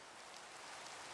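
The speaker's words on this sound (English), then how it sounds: "now it's raining." Steady rain pours down in a video game, a dense, even hiss of drops that holds at the same level throughout with no voices over it.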